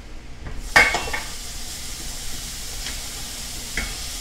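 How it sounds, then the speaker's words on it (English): Onions and celery stirred with seaweed in a pot, giving a few clanks of a utensil against the pot over a soft sizzle, with scraping strokes spread through the short stretch and no talking. "Give your onions and your celeries a good spin right now."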